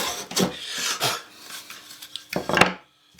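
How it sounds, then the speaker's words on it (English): Sandpaper of 120 grit rubs inside a hole in a wooden push stick in short, scratchy strokes, two quick bursts then a pause and another pair, close and dry. "I'm doing a 120 grit in case you were wondering."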